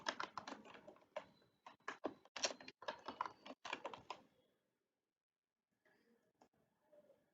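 A password is typed on a computer keyboard: quick, close clicking keystrokes in an uneven burst for about four seconds, then silence and a few scattered faint taps.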